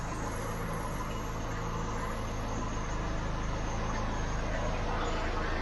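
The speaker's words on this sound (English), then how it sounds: "The car is ticking over really steady, and everything's holding out really smooth and steady" A Ford Pinto engine ticking over at a smooth, steady idle, a continuous loud rumble with a broad noisy wash and no revving.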